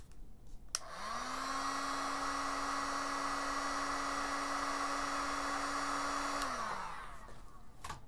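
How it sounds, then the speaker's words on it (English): A Mastercraft heat gun switches on, blows a steady whirring stream of hot air at a temperature and humidity sensor for about six seconds, then winds down and stops; close and alone, no talk. "I have this heat gun here, Mastercraft. I will apply some heat to this"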